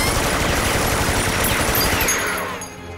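Sustained automatic gunfire from guns in an anime scene, a dense rapid burst of shots that fills most of the clip and then tapers off at the end, with no speech.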